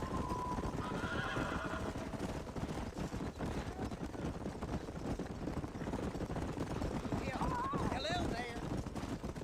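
A horse in the Red Dead Redemption video game whinnies over steady clip-clopping hooves, with a voice talking throughout and a higher, wavering neigh rising again near the end.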